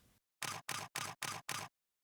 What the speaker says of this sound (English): take the bracketed set by pressing the remote shutter release